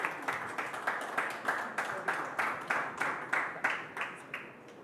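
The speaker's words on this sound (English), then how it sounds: "A huge round of applause" A crowd applauds steadily, the clapping rising in rhythmic surges and staying loud throughout before easing slightly at the end.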